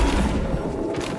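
Flipendo spell cast in the Hogwarts Legacy video game, a single loud, dense blast that starts strong and slowly fades over about a second.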